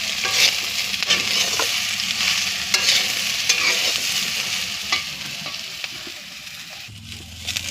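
Kochur loti, taro stolons, fry in a pan with a continuous bright sizzle while a utensil scrapes and stirs them in irregular clacks and scrapes, close and fairly loud, with no talking.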